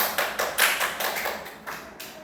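Classroom students clapping their hands together, a run of fairly regular, moderately loud claps close by with no talking over them.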